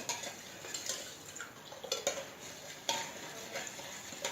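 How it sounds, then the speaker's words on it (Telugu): Jaggery stirred in water with a pinch of salt until it dissolves makes quiet, close clinks and scrapes of a spoon against the vessel in an irregular rhythm over a soft background hiss. "ఇలా బెల్లం అంతా కరిగేదాకా కలుపుకోవాలండి"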